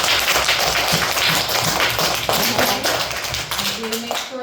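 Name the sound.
schoolchildren's round of applause for a visiting author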